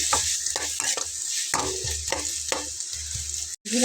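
A tomato mixture fries loudly in a pan, a constant close sizzle punctuated by rhythmic spatula scrapes and stirs, with a sudden brief break just before the end.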